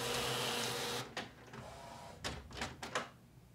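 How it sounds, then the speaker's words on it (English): A Canon imagePROGRAF Pro-300 photo printer runs steadily for about a second, then stops, followed by a few short mechanical whirs and clicks as paper feeds, fairly quiet and close with no talk. "how easy it is just to get a printer like the Pro-300 out the box and printing amazing images"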